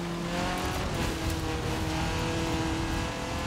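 A 1980 Fiat 124 Sport Spider in Forza Horizon 4 drones steadily from the cockpit, a constant engine hum with faint tire noise and no talking over it.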